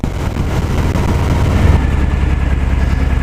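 A 2018 Harley-Davidson Fat Boy 107 motorcycle engine rumbles loud and steady with a deep low throb while riding, rising slightly partway through, with no talk.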